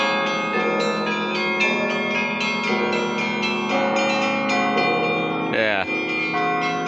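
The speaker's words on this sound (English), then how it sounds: "Just to ring the bells." Church bells ring inside the Kremlin with layered, sustained metallic tones. Strikes overlap continuously and are loud and close, with a brief sliding tone near the end.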